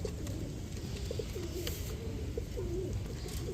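Several pigeons coo softly in repeated low, throaty phrases, with a faint background hum and no voices.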